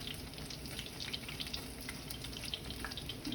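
Breaded oysters fry in hot oil, a soft continuous bubbling hiss with small crackles and pops, fairly quiet but steady throughout.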